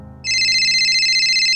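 An incoming call sets off a phone ringtone that starts abruptly and holds as a steady, loud, bright electronic trill, close and alone.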